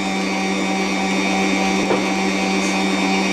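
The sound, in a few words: electric mixer beating eggs with baking powder for cake batter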